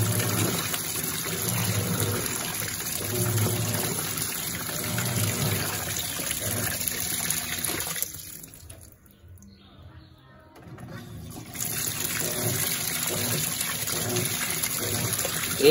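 An Electrolux Perfect Wash Turbo LT12F washing machine fills with water during its rinse cycle, a steady rushing flow that drops away for a couple of seconds midway, then resumes at the same level.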